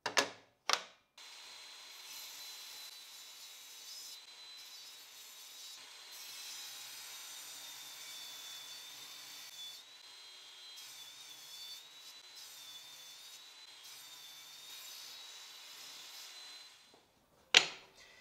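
Reclaimed wood pieces being sawn, trimming a millimetre off one side; a steady, fairly quiet cutting drone runs for about sixteen seconds, bracketed by a few sharp knocks at the start and end.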